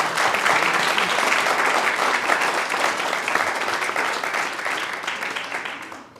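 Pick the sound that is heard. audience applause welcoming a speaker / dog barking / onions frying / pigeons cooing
audience applause welcoming a speaker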